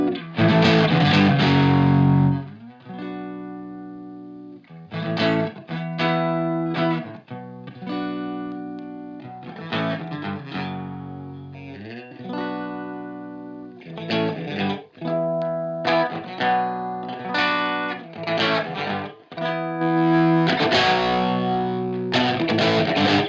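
An electric guitar, a Stratocaster, plays through a Marshall amp with no effect pedal engaged, giving loud, sustained chords and riffs with brief pauses between phrases and no talking.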